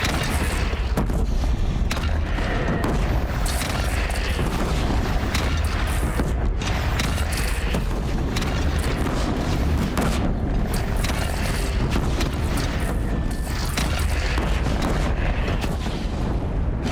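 Cannon fire in the video game Horizon Zero Dawn: repeated heavy booms and explosive cracks over a dense, continuous bed of rumble and mechanical clatter, loud from start to finish.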